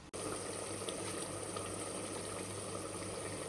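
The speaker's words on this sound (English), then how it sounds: "So we're going to allow it to fry for a bit." Food seasoned with Maggi and salt frying in a pot, a steady dense sizzle that holds at an even level throughout after a brief quiet start, close and with no talk.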